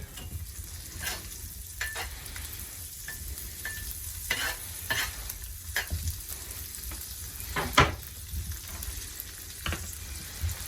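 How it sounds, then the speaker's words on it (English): Chopped garlic sautéing in a pan at a rustic cabin cook-up for deer hash, a soft continuous sizzle with intermittent stirring scrapes and occasional sharp clinks of utensil on pan, close and moderate. "John, aka Camp Cookie, went ahead and chopped us up some garlic. So we're going to throw that in there and get that nice and sauteed."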